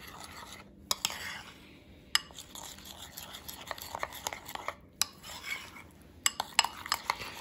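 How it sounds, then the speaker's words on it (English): A utensil stirring a tapioca powder mixture in a bowl, a fairly quiet scraping and tapping pattern with irregular clinks against the sides, the strokes coming in uneven bursts with brief pauses and some soft speech. "All right, now we just mix it."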